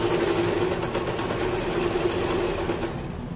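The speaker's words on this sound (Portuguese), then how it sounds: "Então agora vamos pespontar, ó, pespontando a gola." A sewing machine topstitches a shirt collar, running in a steady, close, rapid whirring hum for a few seconds without pause.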